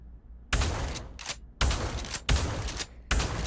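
Rapid bursts of gunfire from a modern gun in what may be a video game, heard as about five separate loud volleys in quick succession, each a dense rattle of shots with short silent gaps between.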